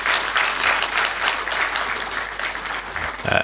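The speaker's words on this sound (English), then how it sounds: "Let's give him a big round of applause" An audience at a public lecture applauds steadily and loudly, dense clapping filling the whole moment without a break.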